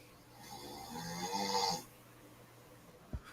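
A single drawn-out snore rises in a raspy swell and fades, followed by quiet and a brief low thump near the end.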